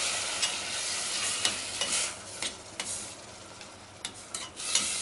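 Tomatoes tipped all at once into a hot pan for homemade pizza sauce, giving a steady close sizzle with scattered scraping stirs and clicks of a utensil against the pan, no voices.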